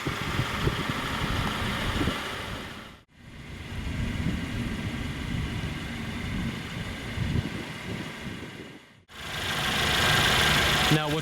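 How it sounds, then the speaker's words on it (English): A 2017 Mercedes-Benz C300 coupe's 2.0-liter turbocharged inline four-cylinder runs at a steady idle, close and fairly loud, with two brief dropouts in the sound. "we get a 2-liter turbocharged inline 4-cylinder that produces 241 horsepower and 273 pound-feet of torque"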